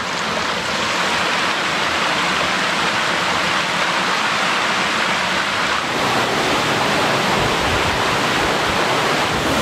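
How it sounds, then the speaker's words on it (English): A waterfall pours over sandstone rock on the Juan de Fuca Trail, a loud, steady, close rush of falling water that fills the whole stretch without pause or voices. "So this waterfall must have, over time, eroded away"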